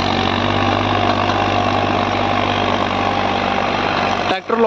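A tractor engine drones steadily under load as it pulls a 9x9 harrow through a field, loud and continuous, with talk over it and a brief break near the end.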